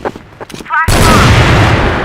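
Flash grenade exploding in a video game: a voice and short clicks, then a sudden loud, broad blast that rings on with a dense roar to the end.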